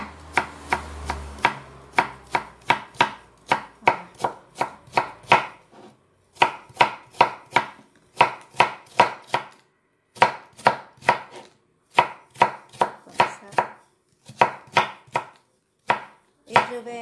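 Vegetables are chopped with a knife on a cutting board for a turkey curry dish, quick sharp close taps in steady bursts separated by short pauses, with no talking.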